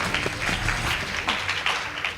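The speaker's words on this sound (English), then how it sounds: "Please give them a round of applause" A school debate audience claps for a team, a moderate wash of applause with a few louder bursts over its short length.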